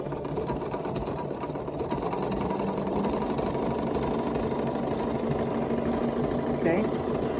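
A Bernina sewing machine with dual feed runs a double overlock stitch, its needle chattering in a fast steady rhythm close by, with a voice talking over it.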